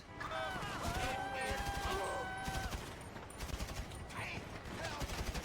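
Gunfire in the video game GTA 5, rapid bursts of shots crackling over game ambience and sirens, fairly loud, with someone talking over it.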